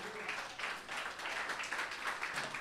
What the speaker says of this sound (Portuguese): Dê um aplauso a Jesus, aleluia.